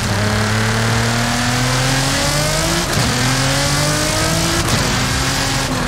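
Nissan GT-R R35 engine in Forza Horizon 5, tuned to roughly 1000 horsepower, revving loud and steady with rising harmonic sweeps through the gears and brief shifts near the three- and five-second marks, with no talk.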